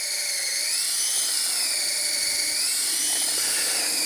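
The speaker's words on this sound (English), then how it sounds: "I'm drilling a 7/16 inch hole." A drill bores a 7/16 inch hole for rebar while replacing landscaping ties, giving a continuous, steady high-pitched whine that stays loud and unbroken throughout.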